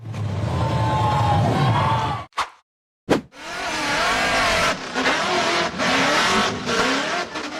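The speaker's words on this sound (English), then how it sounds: "The white steel frame buggy accelerated hard and charged straight up a steep dirt slope in the forest." White steel-frame off-road buggy engine roaring hard as it charges up a steep dirt slope in a forest, loud and close, with a brief drop-out before the revving resumes and surges on.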